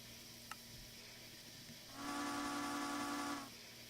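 Steam locomotive whistle sounds once, a loud steady tone with bright harmonics that rises, holds for about a second and a half, then stops, over a constant low background hum.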